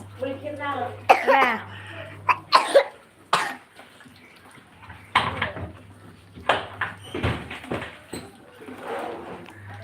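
Repeated harsh coughing bursts from a nearby child sick with fever and cough, scattered through the clip with short pauses and some throat clearing between.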